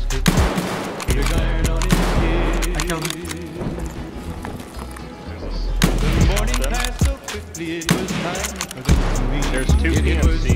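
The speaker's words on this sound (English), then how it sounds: "I'm gonna shoot him" Gunfire in the shooter Escape from Tarkov, loud bursts and single cracks scattered through a dense, busy mix, with someone talking over much of it.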